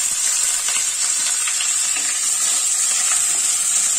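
Cubed onions frying in hot oil for a dry chilli raw jackfruit dish give off a steady, loud, even sizzle that holds without a break the whole time, with no voices over it.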